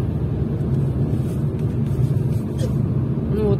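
Steady low engine rumble and road noise from inside a car driving through the city of Kirov in spring, continuous and close, with faint creaks in the cabin.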